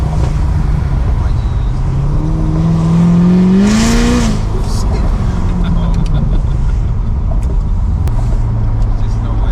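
A cammed Chevrolet Corvette C7 Z06 engine roars loudly from inside the car as it accelerates hard, rising in pitch through a gear before settling, with excited voices of occupants talking over it.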